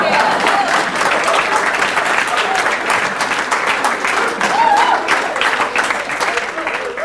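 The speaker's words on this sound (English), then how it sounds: "You can clap if you want." Audience applause at a school leavers' ceremony, a sustained dense clapping from a large crowd that holds steady and loud throughout, with no speech over it.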